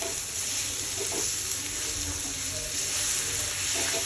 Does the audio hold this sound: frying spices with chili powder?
yes